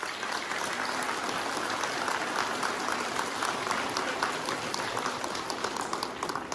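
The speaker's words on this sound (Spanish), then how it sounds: "les pido un fuerte aplauso para todas y todos los habitantes de esta comunidad." Applause from a crowd at a community's 94th anniversary civic ceremony in a village in Guadalcázar, San Luis Potosí, Mexico, giving a continuous, dense patter of clapping that holds steady for several seconds with no talking over it.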